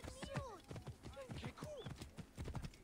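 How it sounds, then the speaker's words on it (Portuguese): Horse hooves clip-clopping in the Assassin's Creed Origins video game, a quick run of hollow hoof strikes at a trot, with a brief whinny and someone talking in Portuguese over it. "Consigo chamar o nosso cavalinho."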